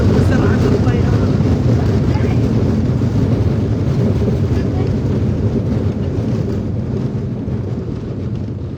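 An airplane's roaring rush on landing, a loud continuous low rumble of engines and wind that holds for several seconds and fades slightly toward the end.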